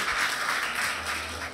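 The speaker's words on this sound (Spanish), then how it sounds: "Que se sientan los aplausos, señores." A crowd applauds during the presentation of pageant candidates for patron saint festivities in El Naranjal, Parra, producing a brief, continuous patter of clapping at moderate distance.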